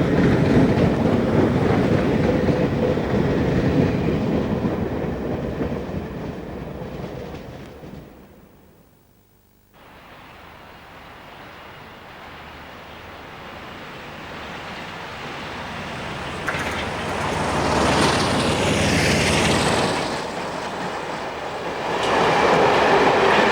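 A British Rail Class 310 electric train runs with a loud, continuous rolling roar. The noise fades briefly to near quiet midway, then rises again with a hissing rush and clattering wheels.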